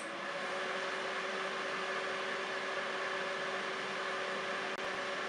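A Cookeo multicooker runs with its lid closed while cooking chicken and tomatoes, giving off a steady, even whir with a faint hum and hiss that stays constant throughout, with no voices over it.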